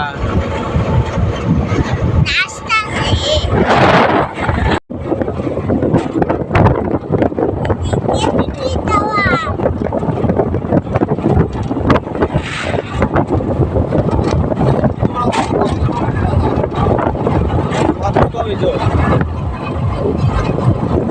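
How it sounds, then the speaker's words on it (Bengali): Strong wind buffets the microphone in loud, continuous gusts near small dinghy boats on the water, with voices talking over it throughout. "অনেক বাতাস"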